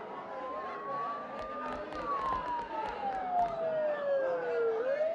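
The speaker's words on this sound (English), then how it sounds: "Don't those sirens sound really close?" Emergency sirens in the video game Persona 4, a wailing tone that slowly rises then falls and climbs again, fairly distant and soft against a faint background rustle, with no talking.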